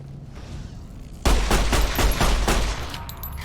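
A volley of rapid gunshots in the video game Fallout: New Vegas (Lonesome Road) erupts suddenly after a quiet ambient lead-in, several loud close shots in quick succession before tapering off.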